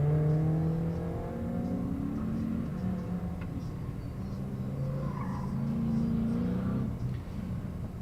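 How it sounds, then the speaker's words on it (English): A small BMW runs an autocross course, its engine droning and revving at a moderate distance, with steady rumble and shifting pitch as it works through the track. "Little BMW out on the track now."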